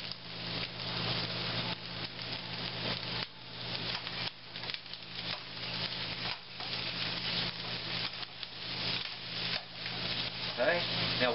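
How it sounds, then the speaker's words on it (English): Onions frying in olive oil in a home kitchen pan give a steady, fairly loud broadband sizzle. Faint scraping and irregular crackles run through it without pause. "Let's put in some olive oil in there. We're going to fry these up."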